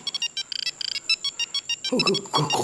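A mobile phone ringtone in a TV drama scene plays as bright, repeated electronic chime bursts in a quick rhythm, then voices start talking over the last few rings.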